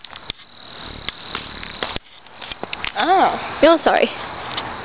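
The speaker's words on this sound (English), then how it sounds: "I feel like there's a cricket behind me." Crickets chirping outdoors at night: a loud, steady high trill, close by, that drops out briefly and then resumes, with frog-like croaks and a few short spoken words over it.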